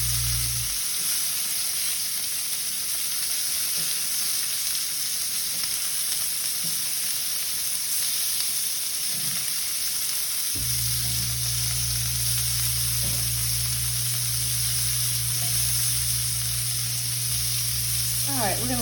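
Chicken pieces sizzle on a grill for a Mediterranean quinoa bowl, a loud, continuous frying hiss that holds steady throughout with faint low background hum and no talk.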